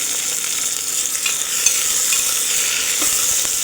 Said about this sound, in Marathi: आणि हे सर्व मिक्स करून घ्यायचं आहे।